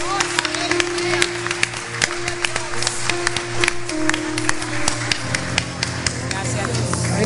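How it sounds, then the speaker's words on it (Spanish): A church congregation claps loudly during a Sunday service, dense sustained applause with sharp individual claps standing out, while a voice speaks over it. "Si vas a darle un aplauso, dáselo fuerte al Señor."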